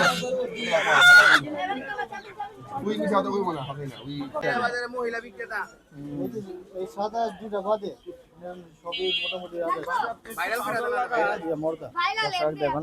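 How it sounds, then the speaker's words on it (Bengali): Ducks and geese at a crowded Bangladeshi poultry market give off harsh honks and quacks, strongest near the start, mostly under near, steady conversation from several people. "চীনা হাঁস রাজহাঁস"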